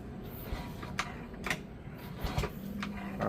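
A motorcycle kick start lever, freshly cleaned, degreased and greased after sticking stiff, is kicked, giving a few sharp mechanical clicks and knocks over a low steady background hum.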